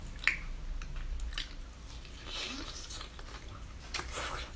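Someone chewing pan-fried fatty beef and pork shoulder close to the mic in an eating show, with soft wet bites, squishy chews and small smacks coming in irregular bursts over a quiet background.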